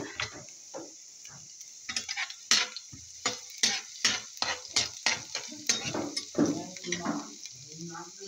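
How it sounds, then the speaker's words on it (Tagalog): A utensil clicks and scrapes against a pan while ingredients for a bitter gourd omelette with minced meat or canned corned beef sauté to light brown, giving a soft sizzle under a close, irregular run of stirring taps. "We have to saute light brown again."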